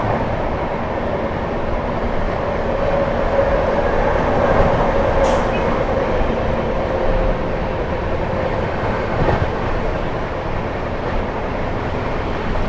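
The 12723 Telangana Express runs along the line, with a steady, continuous rumble and clatter of rolling wheels and carriages heard from on board. A faint tonal whine drifts through the middle.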